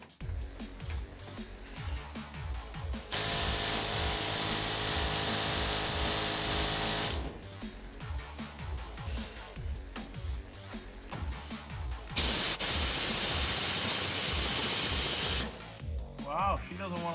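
Long bursts of a loud pneumatic impact gun hammer away on a truck's steering box in two stretches, separated by quieter intervals with background clatter and some talking.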